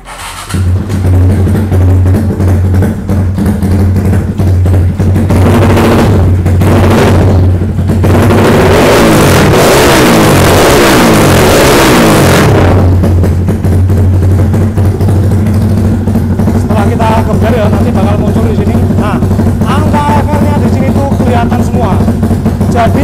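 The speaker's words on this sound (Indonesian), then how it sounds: "Sekarang kita coba hidupkan motornya" A Yamaha MX King motorcycle engine runs loud and close throughout, idling with a steady low drone and rising in a long sustained rev through the middle before settling back to idle.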